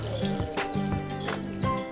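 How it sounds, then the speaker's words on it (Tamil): Water rinsed from a grinder jar is poured into a pepper chicken gravy as it cooks, giving a steady close splashing and trickling with small gurgles and drips throughout. "இந்த தண்ணியும் இதோட சேர்த்துக்கிறேன்."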